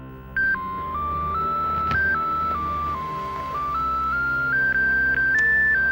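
An electronic phone ringtone plays a stepping, tonal melody of single beeps over a low background hum, steady and fairly close.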